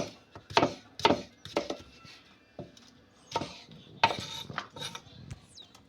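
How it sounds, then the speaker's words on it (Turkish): Knife chopping zucchini on a board while making a Turkish vegetable türlü stew, a series of irregular close, sharp blows with pauses between them. "Şimdi kabağımızı doğruyoruz canlar"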